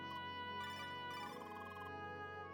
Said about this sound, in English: It's like a phone call.